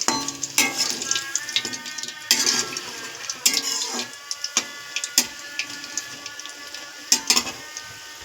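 Chili fritters frying in hot oil in a wok, a steady close sizzle broken by sharp clinks and scrapes of a utensil against the pan, with no talk.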